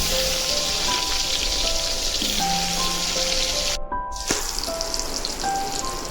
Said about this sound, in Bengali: পটলগুলোকে আমি কড়াইয়ে ভাজতে বসিয়ে দিয়েছি।